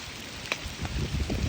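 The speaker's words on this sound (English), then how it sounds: "Oh my god, now it's raining even harder now." Heavy rain pours down in a continuous dense hiss, with a few sharper drop impacts standing out near and loud; no one speaks.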